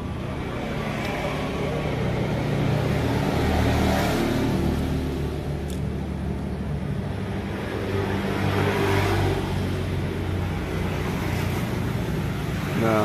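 A Yamaha F1ZR motorcycle engine with a worn carburetor runs steadily and fairly close, its rough droning note swelling into a few mild revs with wind-like noise throughout and no talk.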